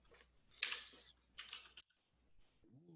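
Computer keyboard keys pressed during 3D logo modeling work, heard as two short bursts of quick clicks separated by quiet gaps, close and fairly faint, with no talking.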